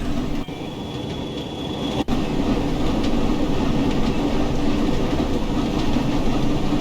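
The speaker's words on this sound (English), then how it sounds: "Freight train from the opposite direction." A freight train passes in the opposite direction beside a moving train on the line near Morley, making a loud continuous rumble with faint rhythmic rail clatter and one sharp dip. No voices are heard.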